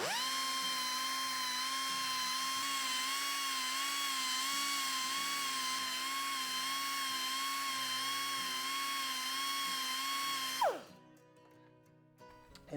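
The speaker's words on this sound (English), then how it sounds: "I'm going to grab my belt sander, give this a little polish, and then some emery cloth." A belt sander polishes a welded bicycle steerer tube with a steady, high, tonal whine that runs unbroken for about ten seconds, then spins down and stops.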